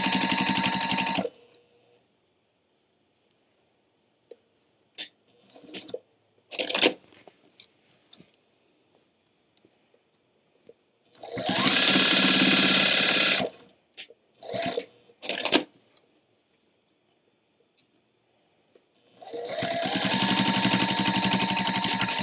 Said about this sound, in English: Now that the machine's rethreaded, I can stitch the front patch.